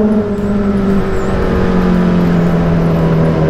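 Kawasaki Z900 motorcycle engine and exhaust roaring inside a tunnel, a loud continuous drone whose pitch drops and then holds steady with a strong echo, and no talking over it.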